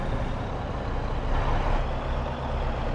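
A truck engine in Farming Simulator 22 gives a steady, close, broadband rumble that holds constant for the whole moment, with no voices.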